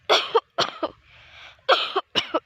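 A man coughs repeatedly on a farm field near home, four harsh, close bursts in two pairs separated by a short pause with faint breath between them.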